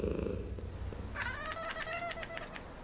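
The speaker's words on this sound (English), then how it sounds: "Purring usually signals contentment and may also be a comfort-seeking behavior." A cat purrs softly up close, then breaks into a short, rising tonal trill partway through.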